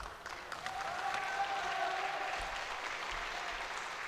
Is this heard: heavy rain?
no